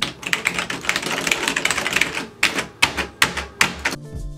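Fast, clacky typing on a Logitech G Pro tenkeyless mechanical keyboard comes up close and loud, first as a rapid stream of keystrokes and then as a few separate heavy presses.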